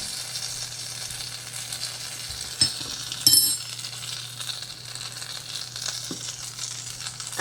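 Sour cream and chive chicken simmers in a pan with a steady, soft hiss that runs throughout, broken by a couple of faint clinks.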